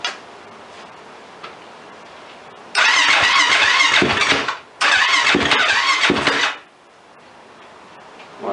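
Yamaha YFZ ATV with a new timing chain being cranked over, two loud bursts of starter cranking and ticking engine noise separated by a short pause, then quiet.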